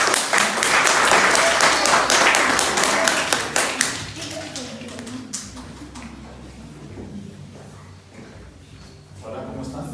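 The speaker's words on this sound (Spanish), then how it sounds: "Un aplauso para él." Audience applause for a performer in a stage play depicting the apostles, a dense burst of clapping that swells loudly then thins into scattered claps, with voices talking underneath.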